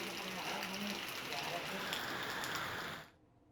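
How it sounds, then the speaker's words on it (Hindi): Steady rain falling in hilly areas of Uttarakhand, a dense continuous hiss of drops on surfaces, faint and even, cutting off abruptly near the end. "पहाड़ी इलाकों में लगातार बारिश हो रही है"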